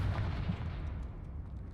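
A Confringo spell blast in Hogwarts Legacy, a deep booming explosion that bursts at the start and rumbles off into a fading low tail, heard alone without talk.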